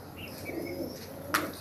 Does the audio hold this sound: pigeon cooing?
yes